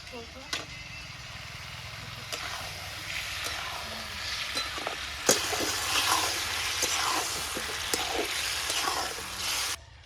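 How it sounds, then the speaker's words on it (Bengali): Goat meat masala stirred and cooked down with a little water in a pot, giving a steady sizzling hiss with scattered clinks and scrapes of a utensil, close and moderately loud, with a voice speaking faintly at times. "অল্প জল দিয়ে কষাবো ভালো করে"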